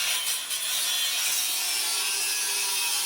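A saw cuts through wood during renovation work, making a loud, steady, continuous rasping that holds from start to end with no voices.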